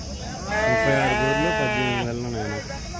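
Sheep bleat loudly and close by at the Gudur village livestock market selling pregnant ewes and lambs, one long wavering call drawn out over a couple of seconds, with faint crowd noise behind it.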